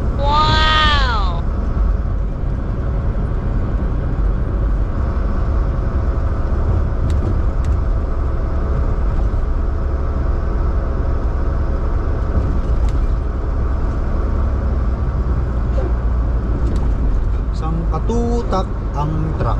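Continuous heavy road rumble from trucks and cars on a Detroit road, loud and steady throughout with a brief horn-like tone at the start and someone talking over the traffic.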